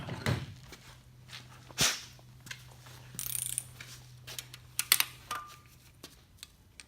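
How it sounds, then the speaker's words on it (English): Ratchet clicks torquing down cam bolts on a Nissan SR20DET engine, scattered short mechanical bursts with a low steady hum underneath, close and fairly quiet. "Now I'm going to torque it down."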